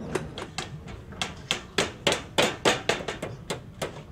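A hammer strikes repeatedly at close range in Mexico City, sharp metallic blows in a steady, quickening rhythm with brief pauses between strikes.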